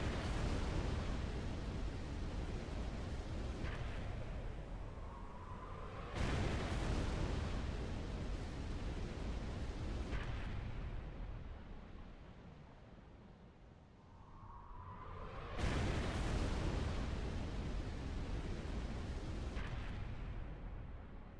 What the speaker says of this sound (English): That's a Covenant glassing beam if you ever want to know what it's like.